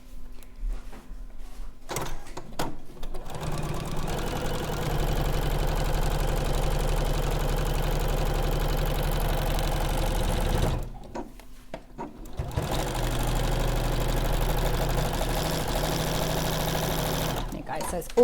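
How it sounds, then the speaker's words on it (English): Sewing machine running steadily as it stitches straight across fabric at a short 1.2 stitch length, a loud continuous whirring hum that pauses briefly midway and then resumes, with some talk in the background. "you want to sew all the way across"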